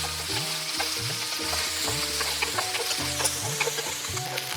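Onions stir-fry in a pan for Indian masoor dal, sizzling close and steadily while rhythmic stirring strokes and a tonal hum repeat through the short stretch.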